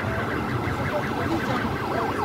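A police car siren wails as the car arrives at a large factory fire in Zgorzelec, Poland, its rising and falling tone cycling rapidly over a dense rumble of engines and background noise.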